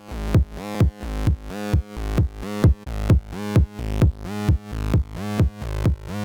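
A synth sidechain compressed to the bass pumps in a steady rhythm, each note swelling and then ducking sharply, repeating about twelve times, loud and alone.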